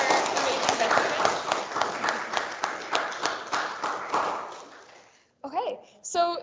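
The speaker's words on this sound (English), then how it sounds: "Can we get a huge round of applause again for our amazing veterans?" An audience claps for veterans at the close of an event, a burst of brisk clapping that thins out and fades, followed by a short pause and then a voice speaking.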